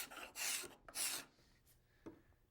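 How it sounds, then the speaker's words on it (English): A hand scraper drags across curved wooden table legs in two long, raspy strokes, followed by softer, quieter scrapes, close and without any talk. "we use a hand scraper to finesse the curve and smooth out the surface of our"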